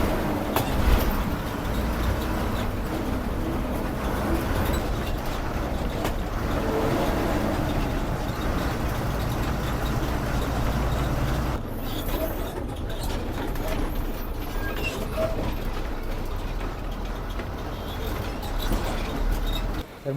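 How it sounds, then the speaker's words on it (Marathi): A state transport bus pulls into a village stop in rural Maharashtra, giving a continuous heavy engine rumble and road noise that fills the whole stretch, dipping slightly partway through before carrying on. "तर म्हणजे एस टी येलेली आहे."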